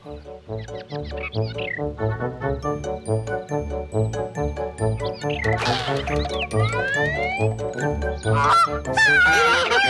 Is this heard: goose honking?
yes